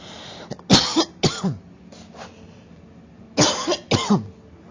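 Several harsh coughs sound close by, coming in two short clusters separated by a brief pause, with quiet room noise between them.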